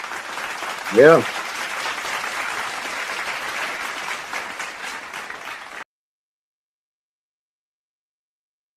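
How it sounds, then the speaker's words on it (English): An audience gives a round of applause, a continuous, fairly close wash of clapping lasting several seconds, with a brief voice calling out near the start before the sound cuts off abruptly. "Round of applause."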